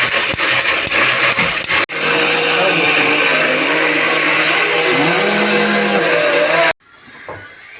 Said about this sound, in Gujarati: હવે ફરીથી પાછું આપણે મિક્સરમાં નાખી દઈશું.